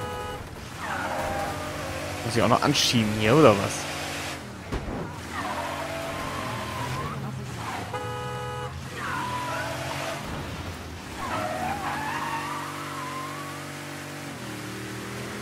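A car in the video game Mafia III revs and accelerates, its engine droning and rising in pitch with a brief tyre skid, while someone speaks German over the driving.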